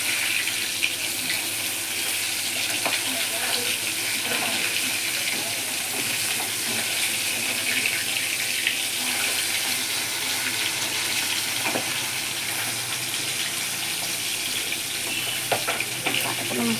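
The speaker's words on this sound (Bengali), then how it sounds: "কাটাগুলো মাছটা পেটিগুলো তো তেল ছিটতে হবে।" Pieces of bata fish frying in hot, spattering oil on a gas stove, a loud, dense and unbroken hiss and crackle that holds steady throughout.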